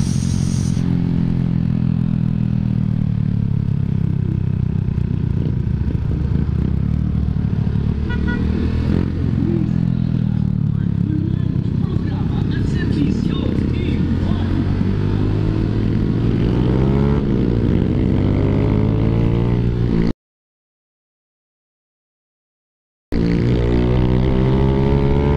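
A Suzuki Raider J115 Fi motorcycle fitted with a 57mm throttle body and an 8-hole injector, its engine running loud and steady up close as the revs rise and fall, with a brief dropout near the end.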